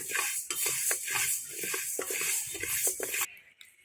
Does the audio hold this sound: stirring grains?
yes